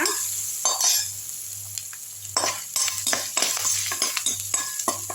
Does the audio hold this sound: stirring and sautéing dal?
yes